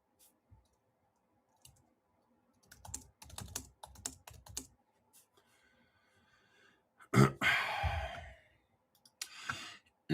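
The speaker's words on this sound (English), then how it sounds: "Let me type this here." Quiet bursts of typing on a computer keyboard, with rapid clusters of key clicks separated by pauses, a louder flurry near the end and an audible sigh or breath among them.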